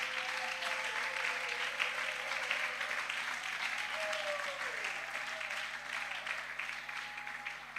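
A church congregation applauding during a Sunday service, steady sustained clapping throughout with a faint voice or sung tone drifting underneath.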